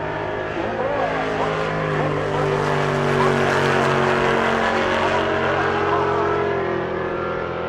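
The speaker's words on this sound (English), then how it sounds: "That's his Mustang fastback." A Mustang fastback race car drives at a race week event, giving a steady, loud engine drone that rises slightly in pitch and then eases, heard continuously with no clear talk over it.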